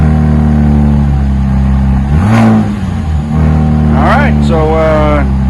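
A 2025 Dodge Ram RHO pickup with its stock exhaust idles with a steady low hum, then revs in two or three quick throttle blips, with someone talking over parts of it.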